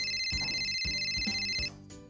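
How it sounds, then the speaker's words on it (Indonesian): A phone ringtone plays on an outgoing call, a steady repeating tone with rhythmic pulses, clear and close, then cutting off abruptly. "Aku telepon Niko aja deh"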